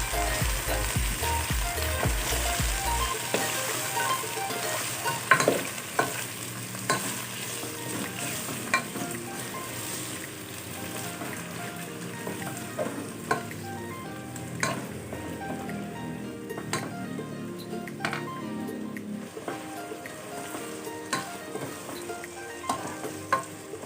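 Shredded chicken sizzles and fries in a cooking pot for a chicken sotanghon glass noodle soup, a steady crackling hiss with occasional stirring clatters, close and continuous with no talk.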